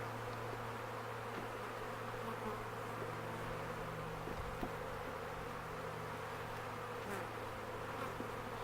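Honey bees at an opened hive during colony splitting give off a steady, soft buzzing drone that stays even throughout, with a few brief louder passes of individual bees.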